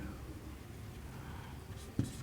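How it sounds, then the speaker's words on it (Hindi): Pen or chalk writing by hand during a maths lesson, a faint steady scratching over low room noise with one brief tap near the end. "मैं लिख दे रहा हूँ कि"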